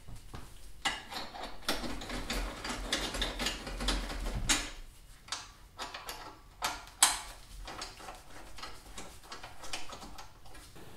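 A ratchet tightens bolts on a Yamaha Ténéré 700 rear rack with quick, irregular metallic ticks and clicks, close and fairly quiet, along with a few louder clanks.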